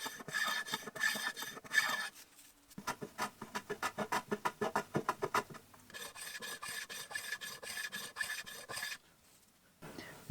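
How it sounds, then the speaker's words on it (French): Rasping strokes of a file or rasp chamfering the square edges of wooden bed parts, coming in quick rhythmic bursts with short pauses between passes, close and moderately loud. "j'ajoute un chanfrein sur tous les angles droits pour déjà éviter qu'ils éclatent"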